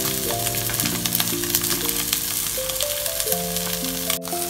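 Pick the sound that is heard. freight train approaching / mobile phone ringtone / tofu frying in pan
tofu frying in pan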